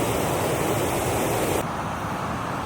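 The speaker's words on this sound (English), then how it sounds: "It's not the Niagara, but it still has that same roar of a tremendous amount of water falling every second." Water pouring over a falls in a wooded river valley at a state park gives a loud, continuous broadband roar, steady and close, with no voices.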